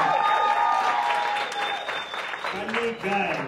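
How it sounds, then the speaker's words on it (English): Applause from an audience at a comedy show, a loud burst of clapping that gradually thins, while a voice speaks over it toward the end. "round of applause for Easy one more time."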